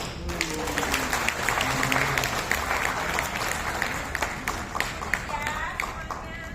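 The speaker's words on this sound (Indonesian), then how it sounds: "Tepuk tangan dulu." Audience applause at a business motivational event in Indonesia, steady dense clapping from a crowd lasting throughout, with a voice partly over it.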